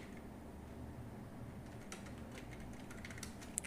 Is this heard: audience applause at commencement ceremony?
no